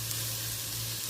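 Onions and okra sizzle steadily in a hot frying pan, a dense, close, continuous crackle as they are stirred.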